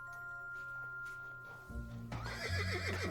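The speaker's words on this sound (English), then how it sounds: "A horse? Where's the horse coming from?" A horse in a Doctor Who episode lets out a loud, close, wavering neigh that bursts in after a quiet stretch and ripples over the last second.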